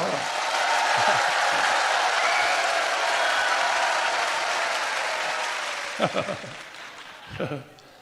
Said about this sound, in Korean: 박수 세게 쳐